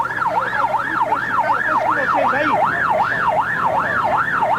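An ambulance siren wails in a steady rising-and-falling cycle, loud and close, continuing throughout with a brief voice underneath.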